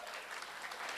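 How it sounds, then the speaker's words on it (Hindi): A packed hall audience breaks into applause at a play event, a brief dense patter of many hands clapping, fairly faint and even, with no voices over it. "एक बार जोरदार तालियां संगीता के लिए"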